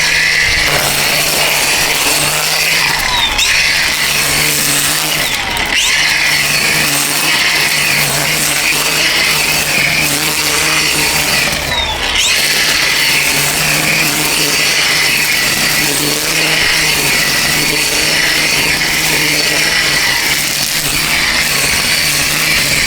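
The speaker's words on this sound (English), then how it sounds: "there's a pretty big patch of grass, so we're gonna go ahead and start weed whacking." A DEWALT 20V Max brushless XR 14-inch folding string trimmer cuts through a large patch of grass with a loud, continuous high-pitched whine. The line whips close by, and the motor pitch shifts slightly as it moves through the growth.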